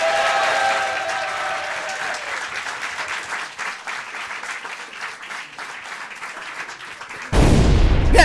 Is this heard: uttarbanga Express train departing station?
no